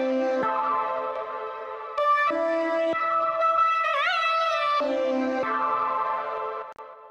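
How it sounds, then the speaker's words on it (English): A synth-like sustained tone with shifting harmonics is pushed through the Soundtoys Radiator saturation plugin, which thickens its mid body. It sounds dense and continuous at close range, with pitch swells and a short dip before it fades out. "Radiator is a great way of adding a sense of saturation to like the main mid body of a sound"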